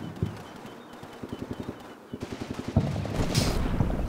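Rapid bursts of gunfire from the Combat Mission wargame, with repeated rhythmic machine-gun rattles trading back and forth, followed by louder overlapping shots and a sharp crack near the end, fairly close and continuous.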